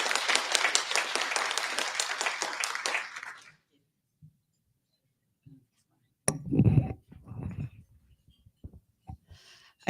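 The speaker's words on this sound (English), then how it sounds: "Let's give a big round of applause for Ms. Terry Kibbe." An audience at a Libertarian Party state convention bursts into loud, steady applause for a few seconds, then it stops abruptly, leaving near silence with a few faint clinks and shuffles.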